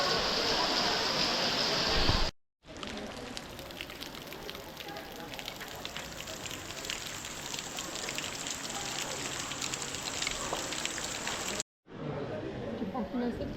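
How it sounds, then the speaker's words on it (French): Steady rain patters and hisses continuously in Bako park, Malaysia, a dense close wash of drops broken by two brief cuts, with no voices. "Bah il pleut tout le temps."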